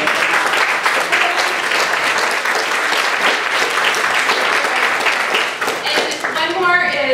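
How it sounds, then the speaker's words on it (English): School audience of parents and families applauding students after drama and dance performances, dense sustained clapping throughout, with voices and cheering mixed in near the end. "so let's applaud them"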